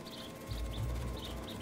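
Faint, high bird chirps in the video game Marvel's Spider-Man 2, a few short repeated tweets over a low background rumble.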